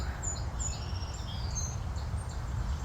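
Birds chirping outdoors, with scattered high thin calls over a soft, steady ambient background.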